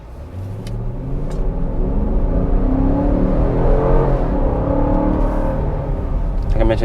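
A 2021 Dodge Durango R/T's 5.7-liter V8 under full throttle in sport mode, a loud, steady engine roar that swells as it revs, with no talk over it.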